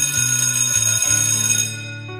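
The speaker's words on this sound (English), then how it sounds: "The bell rings." Electronic school bell chiming a sequence of loud sustained tones, alone and close, fading toward the end with a final softer tone.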